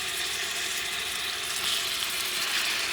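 Lamb shoulder chops fry over medium-high heat in an 86-year-old cast iron pan, giving a steady, dense hiss of sizzling fat that holds at an even level for the whole stretch, with no talk.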